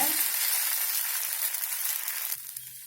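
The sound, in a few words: drumstick-leaf adai batter poured onto hot pan, sizzling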